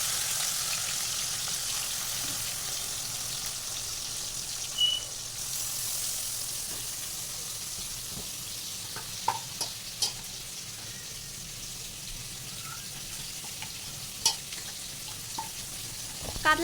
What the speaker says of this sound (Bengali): মাছগুলোকে আমি খুব ভালো করে একটু ভাজা ভাজা করব।